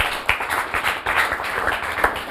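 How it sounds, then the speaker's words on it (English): Audience at a church gathering clapping, a brisk even patter of many hands close by that keeps going without pause. "let's clap for her."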